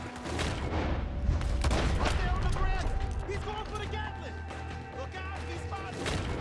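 Gatling gun fire from a raider on a veranda in a video game rattles in a dense, continuous barrage of gunshots and crashes, loud and sustained, with a voice talking over it.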